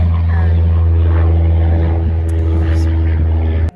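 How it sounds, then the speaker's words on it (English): Propeller airplane flying overhead in a residential area, a loud, steady low engine drone and rumble filling the whole clip, near and continuous until an abrupt end. "There goes the airplane."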